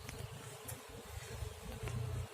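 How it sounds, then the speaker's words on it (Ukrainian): A steady, close drone of many honey bees buzzing at a hive, continuous and low, with no voices. "бджоли тут непогано, я б сказав, навіть і внизу бачу є, і зверху є"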